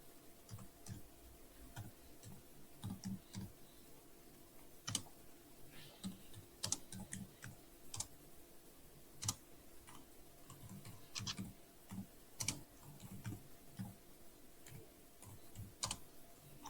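Quiet typing on a computer keyboard during accounting data entry, irregular bursts of soft key clicks with brief pauses between, close and alone with no talking.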